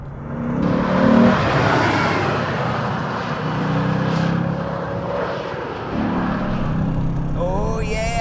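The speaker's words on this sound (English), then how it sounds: "unlike most Chevy V8s, this thing loves to rev." Chevrolet Corvette C4 ZR1 V8 engine revving hard during spirited driving, a loud continuous roar with rising and falling pitch as it climbs through the revs, with brief shifts.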